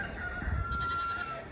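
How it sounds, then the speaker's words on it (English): Roosters crowing, a steady drawn-out call over low rumbling background noise, heard alone for a brief moment. "Every rooster everywhere is popping off."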